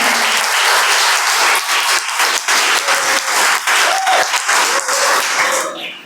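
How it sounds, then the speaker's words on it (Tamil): Loud, close applause from an audience at a Tamil Christian church debate event, sustained dense clapping with a few brief voices mixed in before it fades out at the end. "கைத்தட்டலை பார்த்தாலே தெரியுது கருத்துக்கள் சரியாக பகிரப்பட்டிருக்கிறது என்று."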